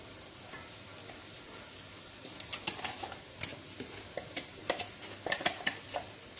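Chopped onion sautés in oil in a pan with a soft continuous sizzle, and a spoon scrapes and taps the pan in irregular clicks that grow busier partway through, with no voices.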